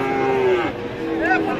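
Friesian and crossbred bull calves moo at a busy cattle market in Raniganj. Two loud, close, drawn-out lows sound over a steady crowd murmur.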